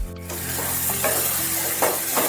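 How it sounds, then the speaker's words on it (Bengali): Fish oil curry with jaggery powder is stirred in a pan, a close, loud sizzle broken by repeated scraping strokes of the spoon. "জিয়াগিরি পাউডার দিয়ে ভালোভাবে একটু নাড়াচাড়া করতে হবে"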